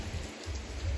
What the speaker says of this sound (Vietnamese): Ngoài trời thì đang mưa rất là to đấy ạ.